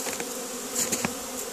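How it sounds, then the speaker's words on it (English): Honey bees swarm busily around a hive colony in a bee yard, a dense steady buzz of many insects close to the microphone, with individual bees whizzing past now and then. "even the little wheat colony, there's bees boiling out of there."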